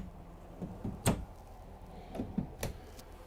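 Deep drawers on full-extension glides in the kitchen of a 2019 Newmar Ventana 3412 motorhome slide and shut, giving a few short, close knocks and thumps at uneven intervals against quiet room tone.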